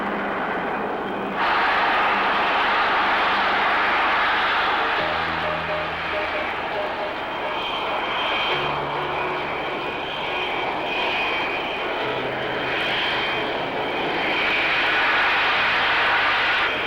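An English Electric Lightning jet takes off after a scramble call, its engines producing a loud, sustained roar that fills the whole clip and swells slightly toward the end.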